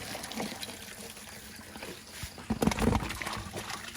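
Water poured out at a fish pond on a small farm splashes nearby in uneven bursts, heaviest toward the end, over faint background noise.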